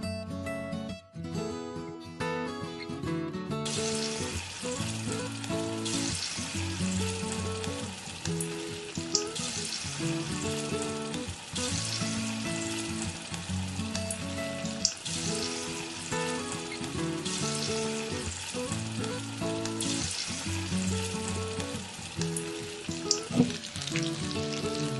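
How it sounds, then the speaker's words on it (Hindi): Battered broccoli florets deep-fry in hot oil with a continuous, even sizzle and bubbling over a steady rhythmic background of music. "इसको हम इस बैटर में डिप करेंगे और फिर फ्राई करेंगे"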